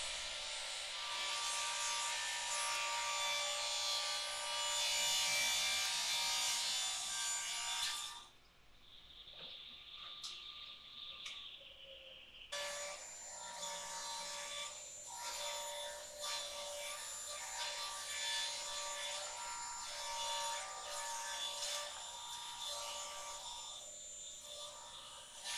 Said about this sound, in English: Next thing is I rip the boards down the middle